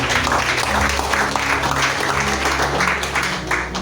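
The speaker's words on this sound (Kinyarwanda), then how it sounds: "ushobora gukorana amashyi Imana." A church congregation applauds and claps for God during a service, a dense, steady burst of many hands clapping together, loud and sustained throughout.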